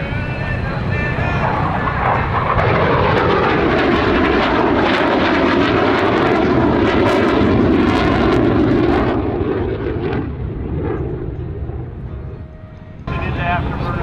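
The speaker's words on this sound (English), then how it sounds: "Into afterburner as he makes his way across" A military jet at the Wings Over Houston 2024 air show thunders past in afterburner, a loud, rumbling roar that swells and holds before fading near the end; crowd voices and commentary mix beneath.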